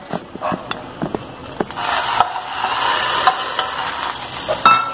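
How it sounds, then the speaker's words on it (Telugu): Tempering poured into eggplant curry sizzles loudly in a hot pan, with a spoon scraping and stirring in quick strokes at close range and no talk. "ఈ పోపు అంతా కూడా దీనిలో వేసేద్దాం."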